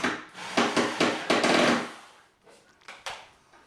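Wooden dowel rods and threaded cam posts are tapped into a particleboard storage bench panel, a run of sharp knocks and rubbing thuds followed by a few lighter taps, close and alone.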